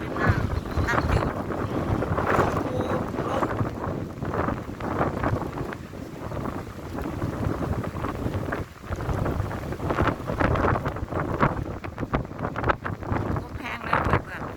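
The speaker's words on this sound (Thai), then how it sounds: "ลมเด้อเพื่อนๆจ๋าลม" Strong icy wind buffets the microphone beside a freshwater canal, a steady roar of gusts filling the whole stretch while a person talks over it at times.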